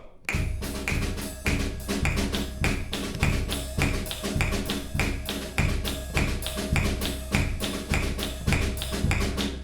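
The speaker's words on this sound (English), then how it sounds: "Can we hear percussion, just percussion alone right there in 81?" A school band's percussion section plays alone, steady bass drum thumps locked with crisp cymbal hits in a repeating march-like pulse, moderately loud in a rehearsal room with no voices over it.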